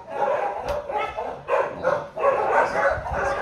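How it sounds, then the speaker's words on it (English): Several dogs bark in the noisy kennel room of an animal control shelter, with overlapping woofs and yips coming in quick, uneven bursts that fill the whole room continuously. "we come out to our noisy room, which is all of our dogs"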